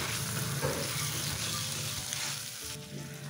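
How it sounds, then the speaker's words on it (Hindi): Chunky pieces of two medium potatoes fry in a pan with salt and turmeric, a dense, constant sizzle close by that eases slightly near the end, with faint low tones underneath. "मु आलू को मसला सहित भल भाव भाजी नेबी"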